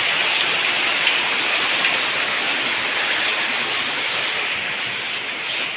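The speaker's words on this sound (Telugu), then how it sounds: "అసలు వర్షం తగ్గనే తగ్గట్లేదు ఒకటే పడతానే ఉంది" Heavy rain pours down in a loud, dense, unbroken hiss that holds steady from start to finish, with no voices.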